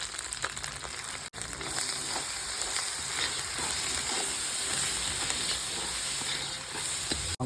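Onion, garlic and spice pastes fry in a pan, giving a loud, dense, continuous sizzle and hiss with occasional stirring scrapes, heard up close without talk.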